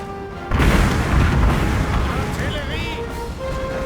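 Cannon barrage firing in Napoleon: Total War, a heavy sustained boom with rumbling low-end bursts that roll on for several seconds, loud and close, with a voice talking over it.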